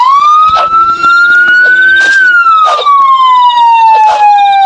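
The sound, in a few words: police siren in Hitch a Hike video game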